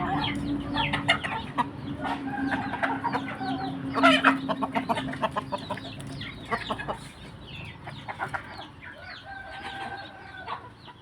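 Several chickens clucking and cackling close by in a front yard, busy overlapping calls that settle down toward the end.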